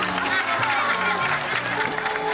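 A studio audience claps in a short burst of steady applause during a Spanish-language television show, with some crowd noise mixed in.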